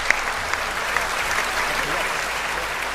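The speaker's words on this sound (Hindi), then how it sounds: "तो एक बार जोरदार तालियां बजा" Dense applause from a large crowd at a poetry recital in a pandal fills the whole stretch, steady and continuous with a few sharper claps standing out.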